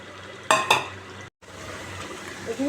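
Potatoes tipped into meat frying in a pan, with two quick clattering knocks and scraping of a spoon, followed by a soft, steady sizzle as the pan is stirred.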